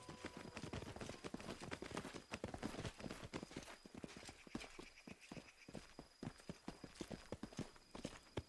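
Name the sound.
horse hooves clip-clopping in Pathfinder video game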